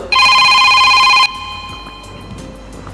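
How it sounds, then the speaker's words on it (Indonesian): A telephone rings loudly with a bright, steady electronic trill for about a second during a call-in broadcast, then cuts off, leaving faint background hiss. "tampaknya Bu Ari, Pak Amazon sudah masuk dari pemirsa kita, telepon"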